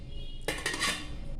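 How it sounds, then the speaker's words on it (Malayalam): A metal appam vessel is set down inside an idli steamer pot, making one brief, close clatter of metal on metal with a short ring. "അതിനകത്ത് ഞാൻ അപ്പച്ചപ്പിൻ്റെ പാത്രം വച്ചു."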